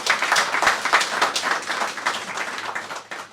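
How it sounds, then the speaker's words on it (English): An audience at a Trinidad and Tobago trade mission event in New York bursts into applause, loud at first and then slowly thinning out, with individual claps standing out near the end. "So can we please give her a round of applause?"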